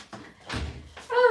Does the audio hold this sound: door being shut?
yes